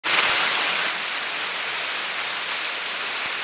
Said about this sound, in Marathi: जोरात पाऊस दिला एकदम जोरात पाऊस पडता एकदम लय जोरात